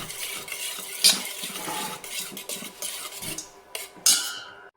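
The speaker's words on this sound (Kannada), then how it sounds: "ಚೆನ್ನಾಗಿ ತಿರ್ಸ್ಕೋಬೇಕದು ಭಾಳ ಹೊತ್ತು." Food being stirred by hand in a pan on the stove for egg cube curry, a steady scraping and clinking of a utensil against metal, with two sharper knocks standing out, close and alone.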